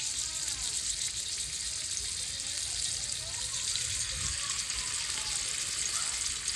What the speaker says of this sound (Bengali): স্যাটেগুলো ভেজে নেব।